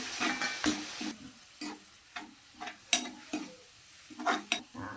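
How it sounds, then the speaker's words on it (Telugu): Grated bottle gourd fries in ghee for a sweet kheer, giving a soft crackling sizzle broken up by intermittent scraping strokes of a spoon stirring the pan, fairly quiet and close. "ఇది బాగా నెయ్యిలో ఫ్రై అవ్వాలి."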